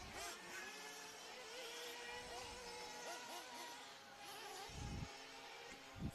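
A nitro-powered RC buggy at a race meeting revs its small two-stroke engine with a high, buzzing whine that rises and falls, while a commentator talks over it and other engines sound in the distance.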